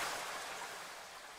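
Synthesized sprinkling rain gives a soft, faint, even hiss of light drops, steady and quieter throughout, with nothing else present.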